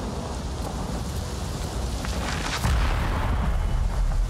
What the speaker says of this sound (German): Ja, das war Gewitter. Ist gerade ein Blitz eingeschlagen.